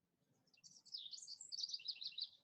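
A bird singing outside, a quick run of high chirps and trills rising in loudness, distant and fairly faint against a quiet room.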